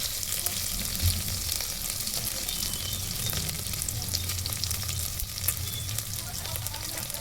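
Mustard seeds, cumin and dried red chilies fry in hot oil, a steady close sizzle with faint crackles and pops throughout.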